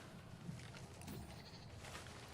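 Goats bleat a couple of times in New World, short faint calls around the half-second and one-second marks, set over a steady low game ambience with no talk.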